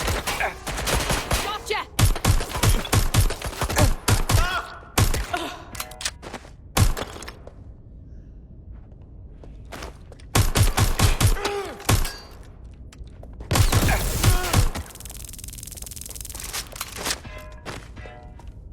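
Loud bursts of automatic gunfire from the Watch Dogs Legion video game, dense rapid volleys in several clusters separated by quieter gaps, with a brief shout over the shooting.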